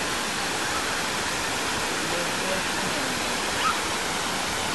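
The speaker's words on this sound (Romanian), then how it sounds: "Parcă se aude zgomot de apă." Steady broadband rush of a waterfall, continuous and moderately distant, with no voices over the water.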